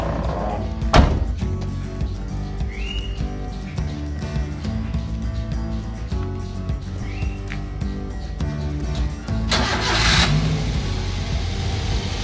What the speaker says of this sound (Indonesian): mari kita bunyikan mesinnya